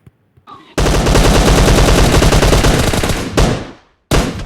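Loud, close automatic gunfire rattles in PUBG Mobile on the Livik map, a continuous rapid burst of about two and a half seconds followed by a shorter burst after a brief gap.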